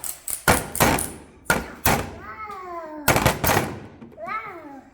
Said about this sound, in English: And then we'll just give that a couple of smacks.